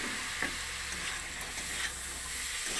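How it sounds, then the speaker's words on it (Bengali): Boiled chickpeas stirred into a frying masala for ghugni, giving a steady close sizzle with faint scraping of a spoon through the pan, no voices. "ছোলাটা দিয়ে সমস্ত কিছুর সঙ্গে একসঙ্গে মিশিয়ে নেব"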